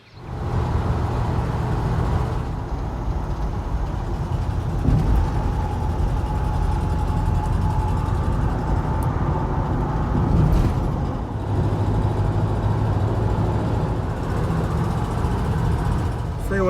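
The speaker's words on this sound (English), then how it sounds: "So let's go for a little drive and a little walk." A car driving on a road, heard from inside as a steady engine and road rumble that holds constant throughout, with small shifts in tone and no talking.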